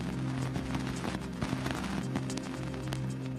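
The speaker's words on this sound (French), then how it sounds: "Voici le bruit des poussières heurtant l'antenne de l'engin." Dust grains striking the antenna of the Cassini probe near Saturn's F ring, converted to audio: a dense, continuous crackling hash with scattered sharp pops and ticks over a steady low hum, loud and unbroken throughout.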